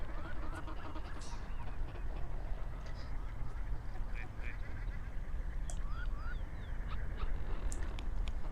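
Ducks quack and geese honk outdoors at a wetland during pairing season, scattered calls at mid distance over a constant low rumble of wind or water.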